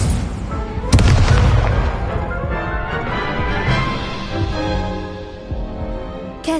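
An Incendio fire spell cast in the video game Hogwarts Legacy, bursting with a sharp booming blast followed by a sustained roaring, crackling rumble that slowly fades.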